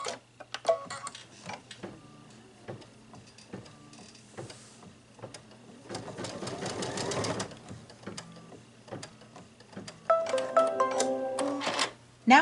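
An embroidery machine stitches a placement line, giving a steady rapid mechanical ticking in rhythmic bursts that grows louder and busier near the end.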